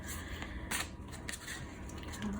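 Tarot cards being shuffled by hand, a soft continuous riffling and shuffling texture with a few brighter snaps, close and fairly quiet with no talking.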